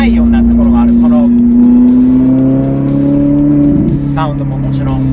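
A Liberty Walk-modified Ferrari 458 Italia engine droning with a strong steady tone that climbs gradually in pitch as it revs, loud and close, with a brief voice near the end.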